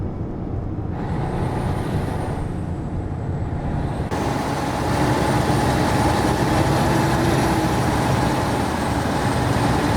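Truck with air brakes on a road, a steady loud engine and tire roar that swells and grows harsher partway through, with a sustained hiss riding over the rumble, heard alone without talk.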